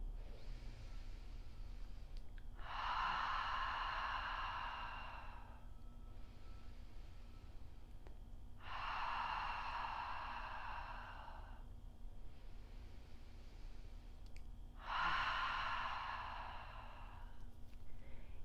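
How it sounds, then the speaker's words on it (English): Ujjayi breathing in a yoga practice: three long, audible breaths, each a hushed, throaty rush of air lasting a couple of seconds, spaced several seconds apart with quiet between, close and fairly soft. "So we're going to inhale to ujjayi."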